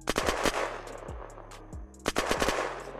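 Gunfire in the video game Unturned: rapid bursts of loud, close shots, with a short lull in the middle before another volley.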